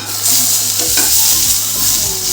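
Steamed okra (bhindi) is stirred in a pan, several scraping strokes of a spatula over a continuous close sizzle, loud and without talk.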